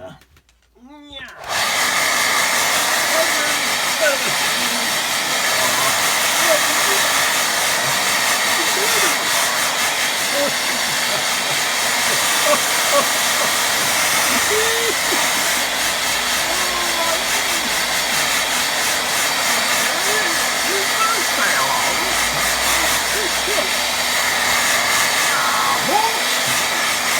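A hair dryer blowing on a watercolour painting, switched on after a brief moment and running loud and steady throughout, with faint talk underneath.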